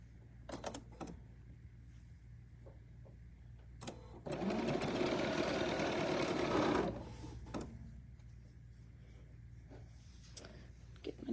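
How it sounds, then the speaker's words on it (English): A sewing machine stitching batik fabric pieces for a table runner, one steady, close mechanical whir lasting a few seconds, with soft handling clicks before and after. "I'm just going to stitch one set of short sides together."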